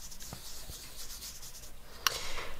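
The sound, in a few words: blending colored pencil rubbing on paper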